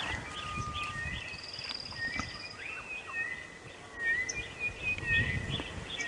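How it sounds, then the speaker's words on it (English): Birds sing at sunrise in the African bush, a scattered chorus of thin chirps and whistles from several distances, fairly faint over a steady rustling background. "Oh, there's lots of bird song."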